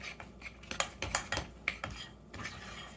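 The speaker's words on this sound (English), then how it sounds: "Stir the garlic up." Garlic stirred in a bowl with metal utensils, giving a run of close, sharp clinks and scrapes against the dish, irregular and loud, with no talking.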